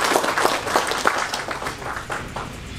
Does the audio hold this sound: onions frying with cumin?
no